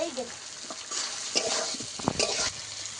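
Elephant foot yam and tomato sautéing in a pan for a hilsa fish curry. A soft sizzle is heard, with scattered spatula scrapes and light clatters near the end.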